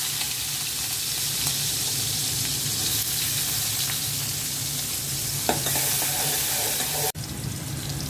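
Onions and five-spice (panch phoron) fry in oil in a cooking pot for a vegetable dish, a steady close sizzle and crackle with a brief clatter near the end.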